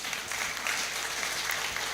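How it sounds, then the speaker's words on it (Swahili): An audience at a ward representatives' debate in Njoro applauds with steady, dense clapping that stays even throughout the short stretch. "So tuwape makofi tena."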